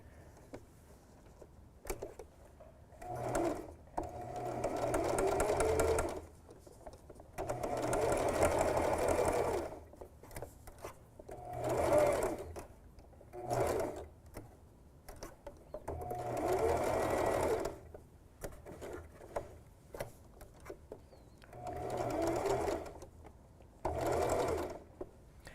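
A sewing machine stitches fabric for a small mouse ornament ear. The motor whirs in repeated bursts of a few seconds each, separated by pauses, close and steady with no voices.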